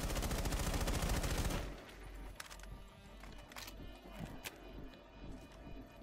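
Rainbow Six Siege gunfire bursts out in a loud rapid volley of shots for about a second and a half, then cuts to quieter scattered game sounds and faint thuds.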